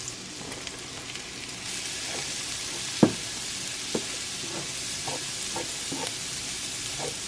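Mushrooms sautéing with onions in bacon fat in a pan: an even, soft sizzle runs throughout, with one louder scrape or knock of a spatula and several lighter stirring taps after it, and no voices.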